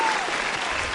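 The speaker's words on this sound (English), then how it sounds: "get some claps for that" A brief, steady burst of audience applause, dense and close, lasting about a second.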